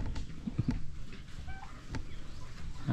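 Backyard chickens in a garden coop give soft, scattered clucks and short calls, faint and somewhat distant against low background rumble.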